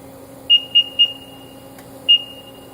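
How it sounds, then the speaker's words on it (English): A Brewer Science 100CB spin coater sounds four short electronic beeps, three in quick succession and then one more after a pause, clear above a steady low machine hum. "When it's done, this will just beep and let you know that you're done."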